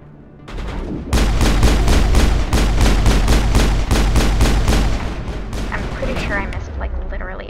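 Rapid bursts of video game gunfire, a dense loud volley of repeated shots in quick rhythm lasting several seconds before easing into scattered fainter effects, with a player talking over the action.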